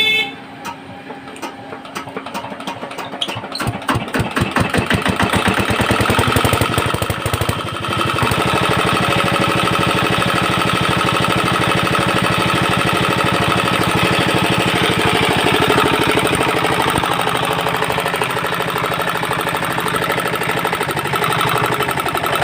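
A diesel engine with a faulty governor is cranked with a few chugs, then catches and revs up to full speed, holding a loud, steady roar close by throughout.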